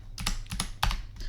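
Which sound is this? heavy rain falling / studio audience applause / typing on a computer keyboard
typing on a computer keyboard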